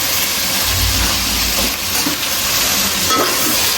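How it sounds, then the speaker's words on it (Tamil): Brinjal being sautéed in a pan for a crab curry, a steady close sizzle with stirring scrapes and a low rumble underneath, continuous and loud, no talking. "இப்போதான் கத்திரிக்காய் வந்து போட்டு வேணா வதக்கணும்."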